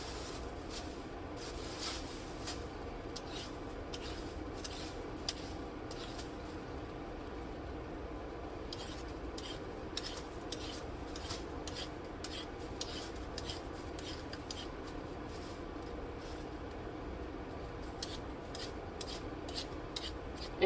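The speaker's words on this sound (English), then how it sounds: "And then do a little shredding on the box grater" Carrots shredded on a metal box grater, a steady run of scraping, rasping strokes close by, continuing rhythmically for a long stretch with no talk.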